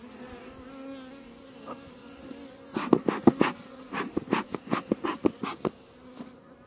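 Honeybees buzz around a beehive while a queen is introduced, a low steady hum with individual bees zipping loudly past close by in quick bursts; no talking.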